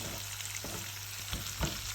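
Onions for a Myanmar curry sizzle in a pan, a fairly quiet, steady frying hiss with a couple of small stirring bumps and no voices.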